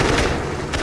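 WWII aircraft cannons fire in the video game Birds of Steel, a dense, continuous rapid burst of loud gunfire with no pauses throughout.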